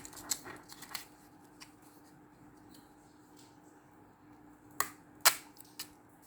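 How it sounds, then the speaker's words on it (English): Scissors snipping through paper while trimming a handmade vintage ticket, heard as a few faint, sharp clicks that cluster near the end of an otherwise quiet stretch. "I'm just gonna cut it."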